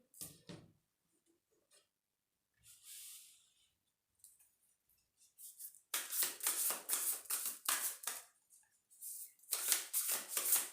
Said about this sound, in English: I feel the need to shuffle them again